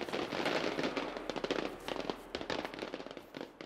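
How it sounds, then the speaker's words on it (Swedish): Firecracker going off in the video game Generation Zero, a loud burst of rapid crackling pops that fades into scattered snaps over a few seconds. "Man ska alltid låta en vuxen hantera fyrverkerier."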